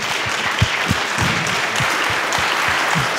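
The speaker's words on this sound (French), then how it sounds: "d'applaudir nos invités" Audience applause for guests at the close of a round-table panel on AI and the energy transition, a steady wash of clapping from a sizable crowd with dull low thumps scattered throughout.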